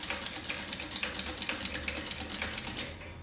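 An industrial sewing machine with a buttonhole attachment stitches around a buttonhole in a fast, even train of close, rhythmic clicks, ending abruptly after about three seconds.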